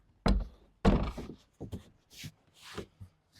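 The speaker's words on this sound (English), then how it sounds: "First off, let's go ahead and put on our 40 gallon tank." A 40-gallon water tank is set onto a four-wheeler with two heavy hollow thumps, followed by several lighter knocks and bumps as it is shifted into place.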